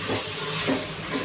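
Spices sizzle and hiss steadily in hot oil as they are sautéed for a homestyle Bhogi vegetable dish, a close continuous frying crackle with no talk.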